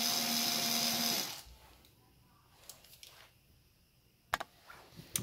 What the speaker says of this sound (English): Okay, so just pull all the screws out of this.